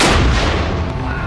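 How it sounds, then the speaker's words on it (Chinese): A 50-jin charge of ammonium nitrate fuel oil explosive detonates beside water in a test, a loud, broadband roaring blast that fills the short clip without pause. "接下来他们换成50斤威力更大的铵油炸药"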